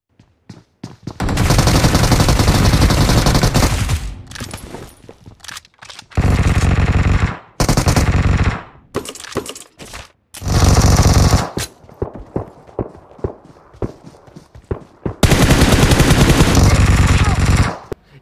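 Automatic gunfire in the mobile battle royale game BGMI, including a Vector, comes in long, loud, dense bursts separated by short gaps, with a few scattered single shots in between.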